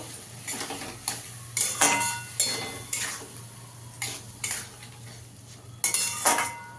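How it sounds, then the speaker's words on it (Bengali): A spoon stirs spices and cumin powder in a pan, giving repeated metallic scrapes and clinks in irregular bursts over a low steady hum, with no talking. "জিরের গুঁড়ো দিয়ে দেবো এক চামচ ভালো করে কষিয়ে নেব"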